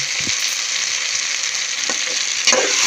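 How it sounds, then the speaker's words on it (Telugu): Green chillies and curry leaves fry in hot oil for vegetable biryani, giving a continuous close sizzle with a few light stirring scrapes. "ఇప్పుడు పచ్చిమిరపకాయలు వేసుకున్నాను అలాగే కరివేపాకు కూడా వేసేస్తుంది"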